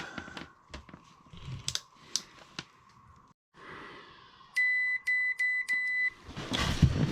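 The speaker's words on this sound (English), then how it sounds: "let's check continuity across this and see what we come up with." A multimeter set to continuity on an air conditioning disconnect gives several short, clear electronic beeps in quick succession, preceded by clicks and handling of the probes.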